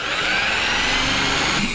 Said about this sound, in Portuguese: você vai fazer um leve furo com uma broca aqui em cima, bem aonde tá a solda